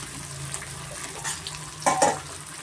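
Garlic kabab fries in oil over a medium flame with a steady, close bubbling sizzle, broken near the end by a couple of louder stirring scrapes against the pan.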